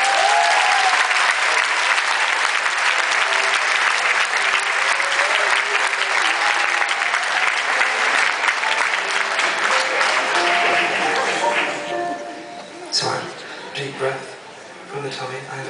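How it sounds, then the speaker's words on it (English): Loud, sustained applause from a large concert crowd at The Palladium fills most of the clip, then tapers off into scattered claps and murmuring. "Round of applause."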